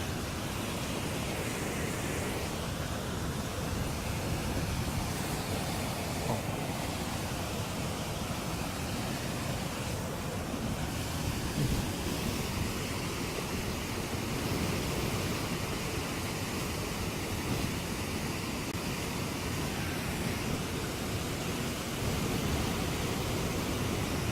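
A waterfall at Katmai where bears fish, heard as a constant dense roar of falling water, even and unvarying in level, steady from start to finish with no voices.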